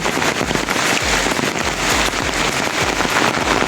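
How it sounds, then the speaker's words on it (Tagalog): Dense, heavy rain pours down beside a national road in Lopez, Quezon, in a steady loud roar, with pattering drops hitting nearby surfaces throughout. "Talaga inabot na kami ng malakas na ulan"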